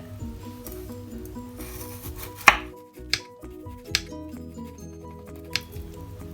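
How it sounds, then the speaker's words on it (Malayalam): A knife slices a bitter gourd into rounds on a board, producing a few sharp, separate chops spaced about a second apart over quiet background music. "ഇനി നമുക്ക് ഈ പാവയ്ക്ക ഒന്ന് റൗണ്ടിലൊന്ന് കട്ട് ചെയ്തെടുക്കാം."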